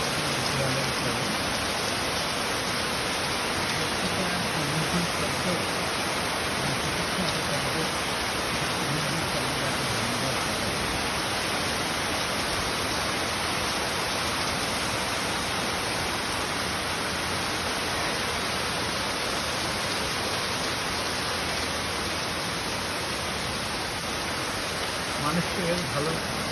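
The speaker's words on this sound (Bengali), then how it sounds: "এই যে বৃষ্টি" Steady rain falls outdoors in front of a large private building, a dense continuous hiss with no spoken voices, holding even and fairly loud throughout.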